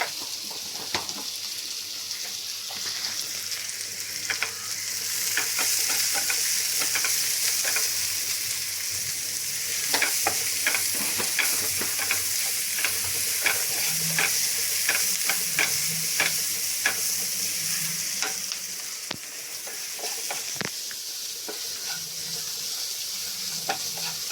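Onions with salt frying in a pan for a Kerala thoran, a steady sizzle under repeated scraping strokes of a spoon stirring at an irregular rhythm.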